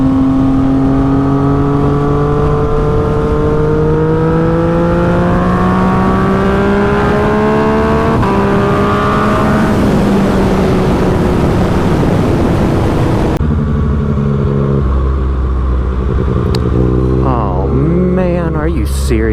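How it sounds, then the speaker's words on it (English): Yamaha FZ-09 motorcycle engine rumbling steadily and rising through revs while riding, with a loud, continuous drone and some wind noise. "see how this FZ-09 likes to rumble"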